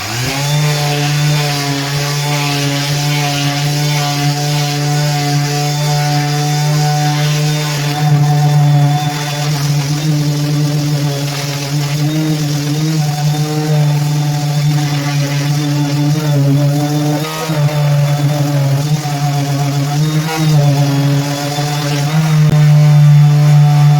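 A loud, continuous power sander drones steadily with a strong buzzing hum as it sands a boat, its pitch wavering slightly as it works against the surface.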